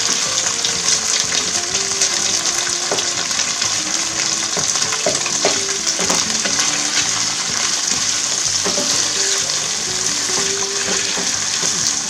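Onions hitting hot fat in a pan for a Corsican chicken with peppers and potatoes, giving a loud, steady hissing sizzle throughout with occasional stirring scrapes and no voices.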